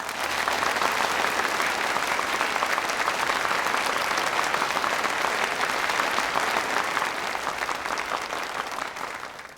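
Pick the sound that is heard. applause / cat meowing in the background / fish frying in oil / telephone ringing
applause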